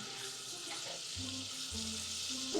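A pan of food seasoned with pepper and salt is stirred as it fries, giving a steady soft sizzle with quiet scraping. A low hum runs underneath.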